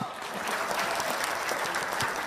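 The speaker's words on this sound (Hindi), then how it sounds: "ताली बजाओ।" Studio audience clapping on a televised Hindi news debate show, a dense, loud burst of applause filling the whole short stretch without pause.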